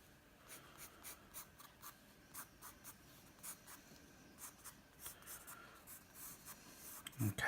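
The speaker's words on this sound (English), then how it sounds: "if we start with a 2H pencil, if we start off by just drawing sort of a basic circle" Quiet, close scratches of a 2H pencil drawing a circle on paper come in short repeated strokes at an even rhythm, with a soft handling bump at the end.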